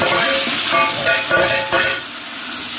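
Tomatoes and green chillies dropped into chicken biryani masala frying in a pan, giving a steady close sizzle with soft stirring scrapes and a few brief bursts.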